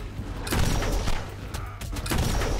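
Chaotic gunfire from the video game Ark: Extinction during a supply drop defense, with loud overlapping bursts of shots and booms coming in uneven waves.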